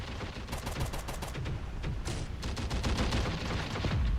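Rapid bursts of gunfire crack repeatedly in quick succession, dense and loud, like sustained automatic shooting in a battle.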